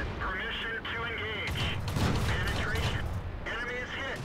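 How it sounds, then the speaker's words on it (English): Tank gunfire in World of Tanks, played with a Panzer II J, sounds as repeated booming shots and impacts over rumbling mechanical noise, dense and loud, with someone talking over the battle. "All those shots in the front."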